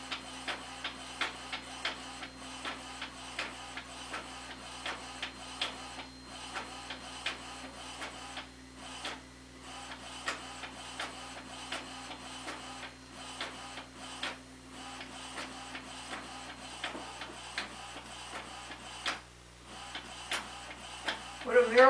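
Epson printer printing, a steady mechanical chatter of rapid ticking carriage passes with periodic clunks, running continuously at moderate volume near the microphone.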